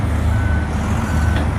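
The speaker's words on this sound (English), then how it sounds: "Here comes another big yellow dump truck." A big yellow dump truck reverses, its loud, steady backup beeper sounding over a deep, rumbling diesel engine, close by and continuous with no talking.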